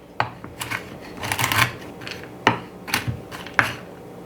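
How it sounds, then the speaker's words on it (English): Pecans chopped with a knife on a cutting board, a series of sharp close knocks and crunches, some single and some in quick bursts, with no talking. "I'm going to cut up my nuts and then we'll put it all together."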